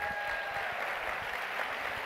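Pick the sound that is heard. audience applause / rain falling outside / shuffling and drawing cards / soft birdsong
audience applause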